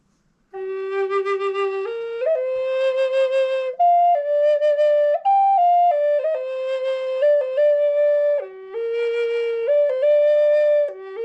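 A flute plays a slow, sustained melody of clear held notes, loud and close, with no other sounds around it.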